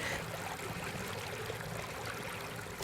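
Creek water flowing steadily along a residential stretch of Crabtree Creek in the Neuse River basin of North Carolina, a constant broadband rush and trickle that stays even and close for the whole span with no voices.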